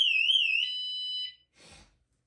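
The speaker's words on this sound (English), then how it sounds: "It's too loud. It's got an alarm." An aftermarket e-bike security alarm shrills loudly in a warbling electronic tone, then holds a steady high beep before cutting off, followed by a brief rustling noise in a garage.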